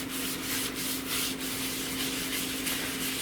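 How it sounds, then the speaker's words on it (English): A paper towel with cleanser scrubs hard against a sink in a continuous, close, rough rubbing sound with a steady back-and-forth rhythm. "I'm using a paper towel, as I said, so I am scrubbing, though."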